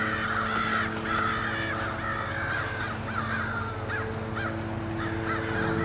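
Crows mobbing a great horned owl near its nest give repeated harsh caws, several birds calling over and across each other in a steady, fairly loud chorus with no talking.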